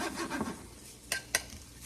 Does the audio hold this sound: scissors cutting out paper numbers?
no